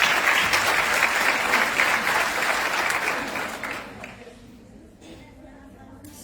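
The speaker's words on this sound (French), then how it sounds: "J'ai envie qu'on accueille avec les applaudissements qu'il faut" A crowd at a Technovation Girls ninth-edition celebration event claps loudly and steadily, then the applause thins out and fades to a quiet room after about four seconds.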